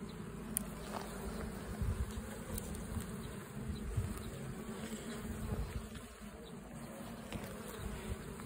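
Dense, steady buzzing of many honeybees at an opened beehive while a beekeeper readies the smoker, a continuous close hum with small rises and dips and no talking.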